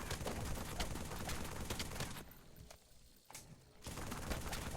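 Automatic assault rifle fire in Halo 3, rapid rattling bursts that pause briefly in the middle before resuming, fairly loud and without talk.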